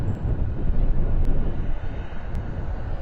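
Steady, loud wind buffeting the microphone at a plane-spotting spot beside Reagan National Airport, a constant low rumbling roar lasting throughout with no talk.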